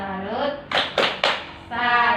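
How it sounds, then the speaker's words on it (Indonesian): A group doing a tepuk salut clapping chant, three sharp rhythmic claps in unison separated by short gaps, with voices chanting before and after the claps. "Yuk, kita tepuk salut dulu nggak ibu-ibu?"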